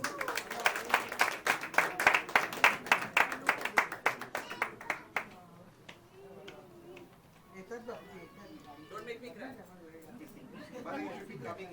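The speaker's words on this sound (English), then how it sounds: "Ladies and gentlemen, can we have a big round of applause?" Applause and clapping for a toast at a golden jubilee celebration, loud rhythmic hand claps for about five seconds, then fading into murmuring crowd chatter and voices.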